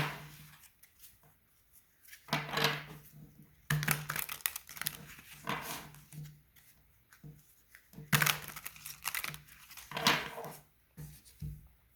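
Tarot cards shuffled and laid out, with soft papery riffles, shuffling bursts and light taps on a table in irregular bursts, quiet and close, with no voices.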